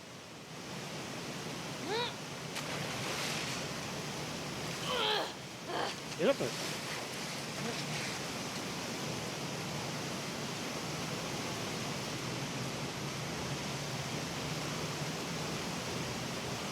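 Rushing water current in The Last of Us Part 2, swum upstream toward a platform, gives a steady broad hiss with a few brief splashy swells, while a voice speaks over it.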